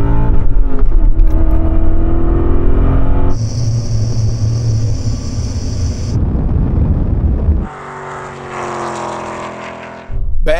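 A BMW E39 M5 and an Alpina B10 launch in a drag race from a rolling start, engines roaring loud and close with a rising pitch, a clear upshift, then the sound falls back as the cars pull away, with wind buffeting the microphone.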